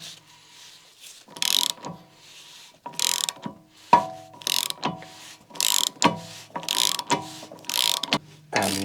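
A ratchet wrench tightens a part on a Rover 216i in a series of close, sharp clicking bursts, each a short run of rapid ticks separated by brief pauses.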